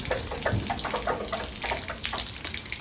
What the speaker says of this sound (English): so I'm gonna put the hose pipe in here.